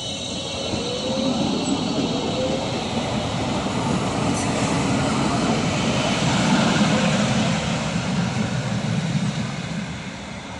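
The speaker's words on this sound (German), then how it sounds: "Hier verkehren die S-Bahnen der Linie 4." A continuous low rumble and rush of a passing S-Bahn line 4 commuter train on the Hohenlohe Railway near Heilbronn, Germany, building slightly and then easing, with no speech.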